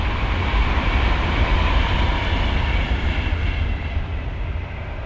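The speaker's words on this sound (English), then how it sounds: "Train!" A train passes near a narrowboat moored on a canal, giving a loud, continuous rumbling roar that holds steady for several seconds and then begins to fade slightly, with no talking.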